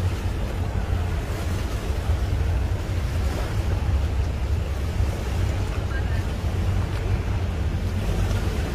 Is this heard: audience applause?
no